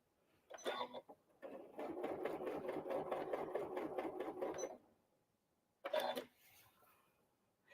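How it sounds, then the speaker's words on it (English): Janome sewing machine stitching a fabric Christmas tree garland: a short burst, then a longer steady run of rapid needle strokes, a pause, and another brief burst, all fairly quiet and close. "puts the presser foot back down as soon as I start sewing, which is lovely"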